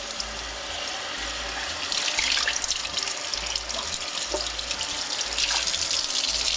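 Cold tap water runs steadily into a sink while a whole chicken is washed inside and out, a close continuous splashing rush with uneven surges as the bird moves under the stream.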